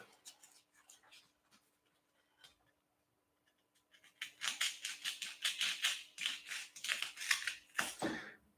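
Scissors snip through cardboard in quick, close, rhythmic cuts during the second half, after a quieter stretch of faint handling noises.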